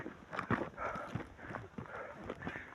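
Horse hooves clip-clop on a mountain hiking trail at Mount Mapalad, a steady run of close, uneven footfalls over a rustling outdoor background.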